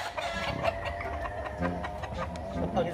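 Chickens clucking nearby in a rural yard, a run of short, repeated clucks and soft fowl calls at moderate level, with people talking around them in the background.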